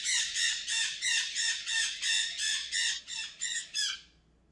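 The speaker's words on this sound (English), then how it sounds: "Excuse my bird." A pet bird squawks about a dozen times in a steady, rapid series of loud, harsh calls close by, with no talking, ending abruptly.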